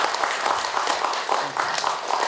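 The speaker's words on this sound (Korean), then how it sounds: "박수로 축하드립니다" Audience applause at a Buddhist dharma lecture ceremony in a temple hall, a steady dense wash of many hands clapping at moderate distance, with a faint voice briefly audible beneath it.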